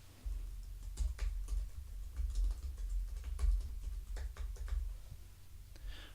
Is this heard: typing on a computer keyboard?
yes